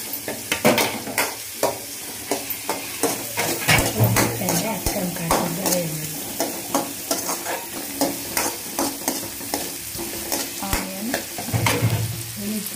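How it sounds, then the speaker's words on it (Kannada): Mustard seeds, curry leaves, dry red chillies and onion frying in hot oil in a pan, with a steady sizzle broken by repeated scraping stirs and light clinks of a spoon against the metal. "ಇವಾಗ ಕರಿಬೇವಿನ ಎಲೆ, ಒಣಮೆಣಸಿನ್ಕಾಯಿ, ಈರುಳ್ಳಿನೆಲ್ಲ ಫ್ರೈ ಮಾಡ್ಕೋಬೇಕು"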